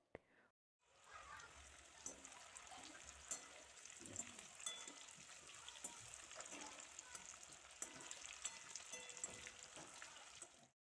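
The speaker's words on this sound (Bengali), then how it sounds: "ফুলকপিগুলোকে আমি ব্রাউন কালার করে ভেজে নিব।" Cauliflower florets fry in hot oil in a pan, a continuous soft crackling sizzle that holds steady at low volume for about ten seconds after a brief quiet start.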